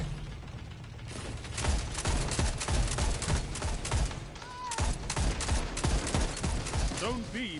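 Rapid gunfire crackles through a Destiny 2 multiplayer firefight, dense overlapping shots and bursts at close range with brief electronic chirps near the end, while teammates talk over it.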